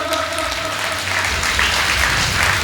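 Applause from a crowd, steady clapping that grows slightly fuller after the first second, with a faint tonal hum underneath.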